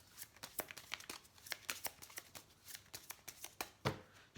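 Tarot cards are shuffled by hand in quick, soft, papery riffles and slaps, repeated in an uneven rhythm, faint and close with no voice over them.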